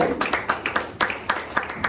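A church congregation at a Sunday high-school worship service claps steadily as students walk to the front, with a run of evenly spaced, fairly close claps across the two seconds and no talking.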